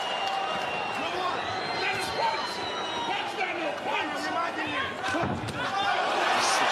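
Crowd at a heavyweight boxing bout between Usyk and Dubois stirs after a left hand lands, a broad arena roar with scattered shouts, heard beneath a commentator's voice.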